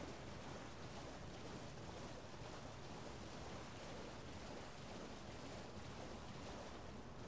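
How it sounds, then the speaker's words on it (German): Water rushing along a shore in Elden Ring, a steady, soft, unbroken wash of broadband noise with no clear wave breaks and no speech. "dann hören wir ein bisschen das Wasser rauschen im Hintergrund"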